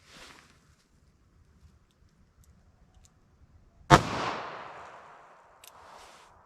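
A single sharp .22 WMR gunshot from a 3-inch revolver firing Hornady Critical Defense 45 grain ammunition, crisp and loud, trailing into a decaying outdoor echo, with a faint click or knock shortly after.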